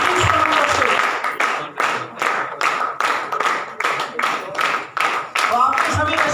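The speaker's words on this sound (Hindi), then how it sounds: "आप ही लोगों की शानदार तालियों के बीच स्टेज में बुलाना चाहूंगा।" An audience applauds as senior leaders are called onto the stage at a team business event. The clapping is dense, loud and steady throughout. It pulses in regular waves, and a voice over a loudspeaker carries on beneath it.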